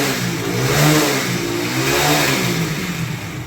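Hero HF Deluxe BS6 motorcycle engine revving after a starting-problem repair, a steady near, loud single-cylinder drone that swells up and eases back twice with no talk.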